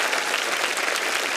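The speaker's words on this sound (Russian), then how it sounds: "аплодисменты тоже ваши" Studio audience on a Russian-language comedy show applauding, a dense, steady wash of clapping with no breaks, close and loud throughout.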